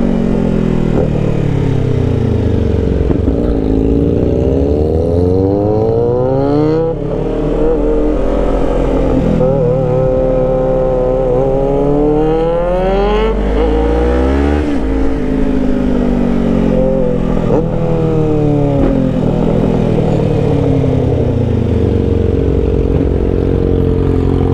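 A Yamaha R6 sport bike fitted with a new loud aftermarket exhaust revs hard again and again, engine pitch sweeping up and down in repeated loud, close bursts with clattering mechanical noise.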